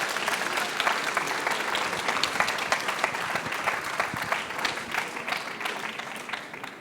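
An audience at a high school eloquence contest in Montreuil applauds steadily, a dense wash of many hands clapping at an even level from start to finish.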